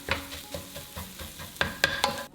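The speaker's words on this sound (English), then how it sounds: "In a pan over medium heat, add the oil and the eggs. Scramble into small pieces and completely cook through." Eggs scramble in oil in a pan over medium heat, with repeated spatula scrapes and stirs over a steady low sizzle, close and clear.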